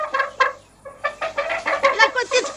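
A hen clucking repeatedly in quick, uneven bursts, close and fairly loud, with a short pause early on before the clucks resume and continue steadily.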